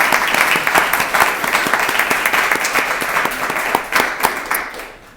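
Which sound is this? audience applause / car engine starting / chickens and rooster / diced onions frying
audience applause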